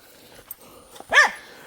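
A single loud, close bark from a frightened dog at a kennel in Moorthimon, Thekkuthodu, after a quiet stretch of faint clicks and ambient noise.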